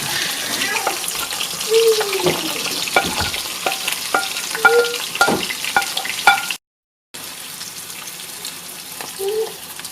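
Sliced onions tip into hot oil with lightly browned garlic in a pan for Kerala-style chilli chicken, setting off a close, steady sizzle broken by stirring scrapes and clinks, with a brief gap partway through.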